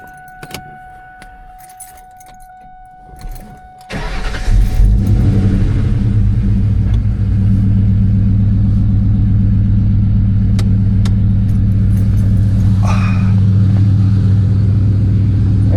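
A car with a 4.6 engine and basic bolt-ons, already warm: keys jingle quietly, then the starter cranks and the engine catches into a loud, steady, deep idle that runs on close by.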